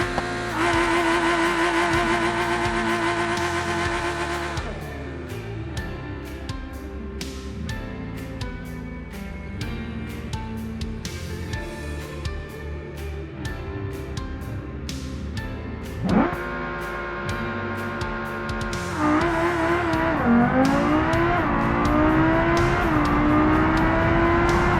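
A Civetta Scintilla Velocita with a race interior and 20 by 11 inch racing rims launches down a quarter-mile drag strip in a video game, its engine roaring loudly and climbing through the gears in long rising sweeps with brief shift breaks.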